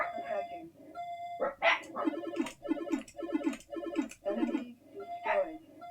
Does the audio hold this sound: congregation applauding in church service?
no